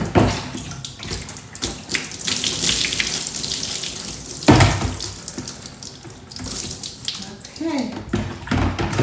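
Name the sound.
water running while rinsing hair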